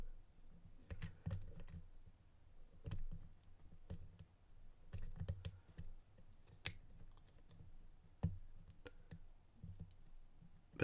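A lock pick works the pins of a vintage USN padlock, producing faint, irregular small clicks and taps close by in a quiet room.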